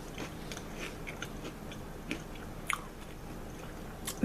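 Someone chews a mouthful of Obatzda, a German cheese spread with onion, making soft, intermittent squishy chewing sounds and faint crunches, close and quiet, ending in a louder crunchy bite.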